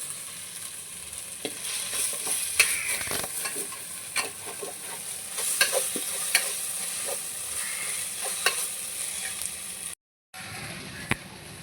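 Onions for chicken curry sauté and soften in a pan, frying with a steady sizzle and repeated scraping stirs. The sound is fairly close, then cuts out briefly near the end.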